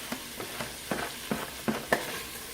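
Diced onion and shredded carrots sauté in melted butter, a soft, low sizzle broken by a series of spoon scrapes and taps against the pan, close and fairly quiet with no voices.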